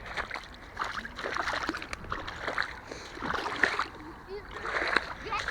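A plastic bottle thrown into water makes a few sloshing splashes amid lapping water, while people talk loudly throughout.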